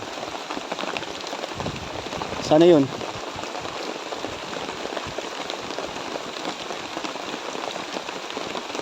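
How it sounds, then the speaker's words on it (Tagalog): Steady rain patters on surfaces throughout, a soft continuous hiss with a brief spoken phrase partway through. "maghintay na tumila yung ulan"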